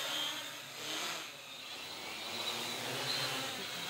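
A 3D printed drone modeled on the DJI Inspire One hovers at just under half throttle, its rotors giving a steady, buzzing insect-like whine that swells and dips slightly, continuous and fairly close.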